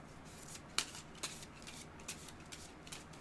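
A quick shuffle of a card game deck, with the nemesis set mixed into the encounter deck, gives soft riffling texture, punctuated by a few crisp snaps of the cards near the mic.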